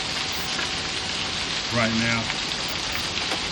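Heavy rain pours steadily during a storm in Texas, a dense, loud hiss that stays constant throughout, with a brief spoken phrase near the middle.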